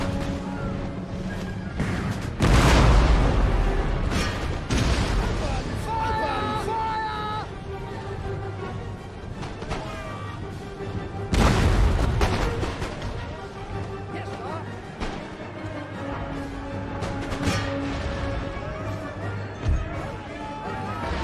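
Cannon and artillery fire in the strategy game Empire: Total War, with heavy booms bursting out near the start and again around midway over a steady bed of battle noise and crowd din.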